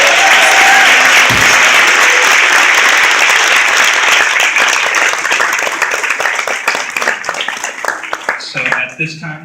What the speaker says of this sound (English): let's have one more round of applause for Ms.